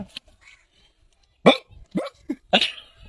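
A person imitates a dog barking with a handful of short, loud, rough vocal bursts after a quiet stretch, growing more frequent toward the end.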